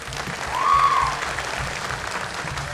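Brief, moderate applause rises and settles from an audience at a dance school anniversary performance, a soft continuous patter without speech.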